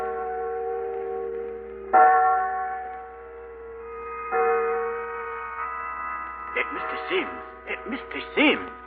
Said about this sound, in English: There go church bells.